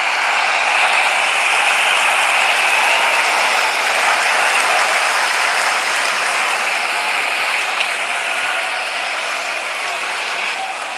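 A cricket stadium crowd during an India versus South Africa T20 match roars steadily as the openers walk out, a dense, sustained wall of cheering that stays loud and even throughout, easing off slightly near the end.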